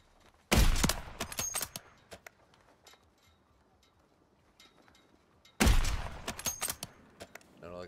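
Two loud bursts of rapid gunfire from a gun in a zombie video game, one near the start and another about five seconds later, with quieter thuds and clatter between them.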